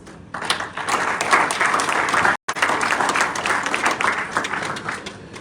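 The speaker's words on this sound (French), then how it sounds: "je vous demande d'applaudir" An audience at an opening ceremony breaks into sustained applause, a dense crowd of hands clapping steadily for several seconds with one very brief cut midway.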